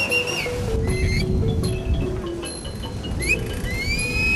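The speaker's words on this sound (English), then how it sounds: "It's a good idea to keep one ear on the whistle, or you might just miss your stop." A Bangkok river ferry, circa 2006, sounds a few short, shrill whistle chirps and one rising tone over a steady rumble of engine and water, with no voices.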